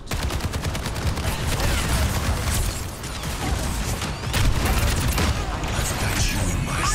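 Dense, rapid gunfire in an Overwatch match, continuous bursts of automatic shots with crackling impacts and ability effects, loud and close for the whole stretch, with no pauses.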